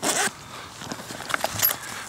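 The zipper on a budget backpack's main compartment is pulled open in one quick, close rasp at the start, followed by faint rustling and handling noises.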